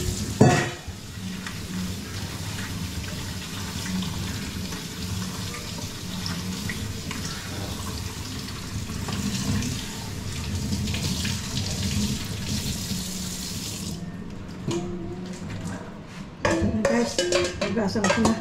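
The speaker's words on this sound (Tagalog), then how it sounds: "Hugasan natin siya sa colander para maalis ang asin" Salted cucumber rinsed in a colander under a running kitchen tap, a steady close wash of water with clinks and handling noises near the end.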